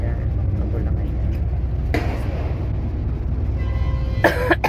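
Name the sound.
Harmony coughing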